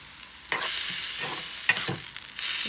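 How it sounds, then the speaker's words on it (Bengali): Salted shrimp frying in oil in a pan, a bright sizzle broken by a few quick scraping stirs over under three seconds. "লবণ দিয়েছি সব চিংড়ি মাছে যাতে লাগে, এখানে একটু নাড়া দিয়ে দিতেছি"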